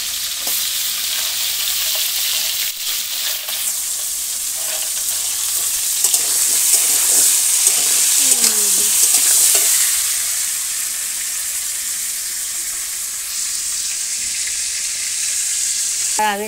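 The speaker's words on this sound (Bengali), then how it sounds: "কাঁকড়াগুলো ভাজা হবে, ফ্যানগুলো পরে দেবো।" Crabs fry in a pan in a village kitchen, making a bright, steady sizzle that keeps going with stirring and scraping sounds. The sizzle swells in the middle and settles again, with no talk.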